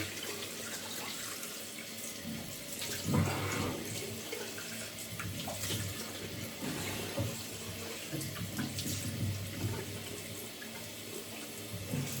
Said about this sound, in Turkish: Şimdi yüzümü yine yıkıyorum arkadaşlar. Soğuk suyla